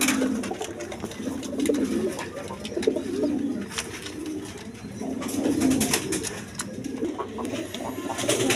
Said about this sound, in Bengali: দর্শক এখানে এক পেয়ার আমেরিকান লার্ক আছে, নুরানবার্গ লার্ক বলে